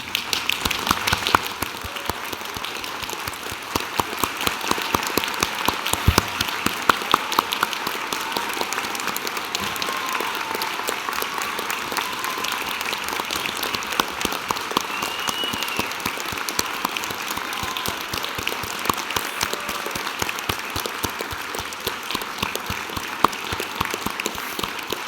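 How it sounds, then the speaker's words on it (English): Sustained applause from a standing audience at a University of Newcastle graduation ceremony, a dense, even wash of many hands clapping for the whole stretch without a break. "for everyone in the audience to stand and join me in applauding the wonderful achievement of these"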